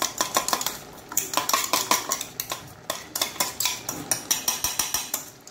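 Ground coconut goes into a pan of Mangalorean Bengal gram and elephant foot yam sukka and is stirred with a metal spoon, making rapid, rhythmic scraping clinks against the pan that come in bursts, close and clear, with no voices.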